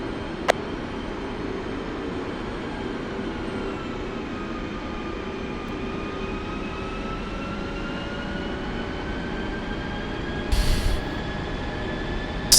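An F-16C jet engine idles steadily after start-up in the DCS flight simulator, a continuous roar with a rising whine that stays even throughout, with a brief louder burst near the end.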